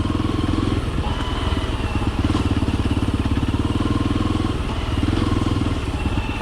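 A motorcycle engine runs close by with a steady, throbbing idle and uneven loping pulses, loud and continuous throughout, with faint clatter over it.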